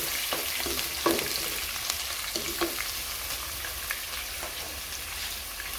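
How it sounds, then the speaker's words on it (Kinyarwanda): Onions and peppers frying in oil in a pan, a close, even crackling sizzle with occasional soft stirring knocks, steady throughout with no talk. "ibitunguru bigenda bishya na puwavuro"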